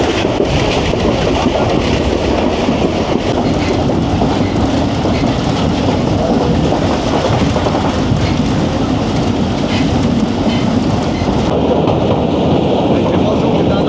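The Jaffar Express thunders along the rails at speed through Punjab, a loud, continuous roar of wheels and carriage rumble with faint rhythmic clatter, heard from on board throughout.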